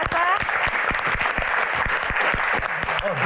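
Loud audience applause at a Q&A event, with sharp individual claps standing out from a continuous crowd patter, and a voice rising briefly near the start and the end.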